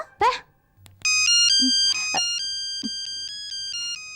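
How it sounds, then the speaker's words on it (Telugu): A telephone rings with a loud melodic ringtone that starts about a second in and keeps cycling. A voice and a couple of small knocks come just before it. "ఫోన్ రింగ్ అవుతుంది, ఎత్తవే."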